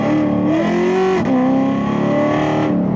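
A 500+ horsepower Chevrolet Corvette engine revs hard nearby, its pitch climbing and dipping through a gear change, loud and continuous for a few seconds.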